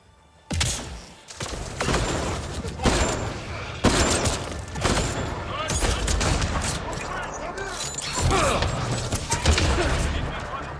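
Sustained sci-fi gunfire in a Mass Effect Andromeda firefight, dense bursts of shots and impacts running almost continuously and loud, with voices and game effects mixed in.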